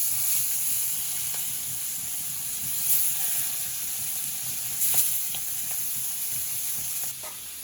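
Fish goes into a pan of bubbling mustard-based sour curry, setting off a steady loud sizzle and frying hiss with a few stirring clatters, no talking.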